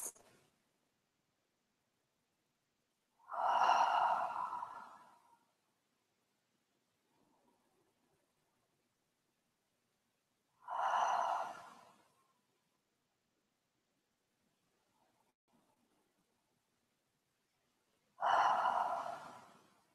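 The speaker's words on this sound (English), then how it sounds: "And breathe in with me 3 times." Three slow, deep in-breaths in a guided breathing exercise, each a soft airy inhale of about two seconds, spaced roughly seven seconds apart with near silence between them.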